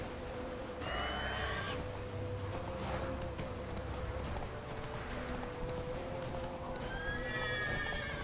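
Roach, a horse in The Witcher 3, lets out shrill neighs near the start and again near the end, with trotting hoofbeats in between against a steady ambient background.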